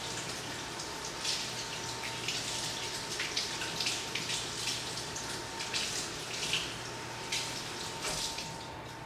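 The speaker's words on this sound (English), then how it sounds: "So what I need to do is drain this out and run some cold water on it." Cold tap water runs steadily over drained sultanas and currants in a kitchen, a continuous close splashing gush that flickers gently as it hits the fruit.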